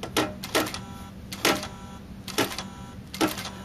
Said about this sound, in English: You can sew one stitch at a time by just tapping with your toe